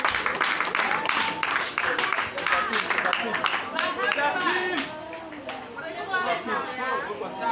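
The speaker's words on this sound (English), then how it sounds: "Can we give him a round of applause, please?" An audience applauds an evicted contestant at a live Sierra Leone talent show eviction night, with steady clapping mixed with loud crowd chatter and voices throughout.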